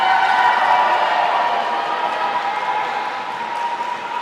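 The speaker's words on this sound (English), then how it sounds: "I do love how loud the crowd is every single time for Abigail." A loud arena crowd cheers and roars continuously at a lightsaber fighting world championship bout, a dense sustained wall of noise that eases slightly toward the end.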